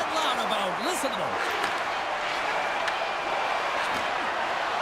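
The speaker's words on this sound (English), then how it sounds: "the home team giving the fans something to cheer and get loud about. Listen to them." Crowd roar from a home-team arena in an NHL hockey video game, a dense steady wash of cheering held at an even level throughout, with faint thuds and brief whistling tones over it.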